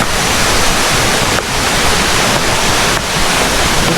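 River water rushes in a steady, loud broadband roar close by at a hot spring bathing area in Baturaden forest park, with no voices over it.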